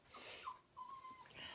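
Puppies whimpering close by: a few thin, high whines, one short and one drawn out, over faint breathy snuffling, with no talking.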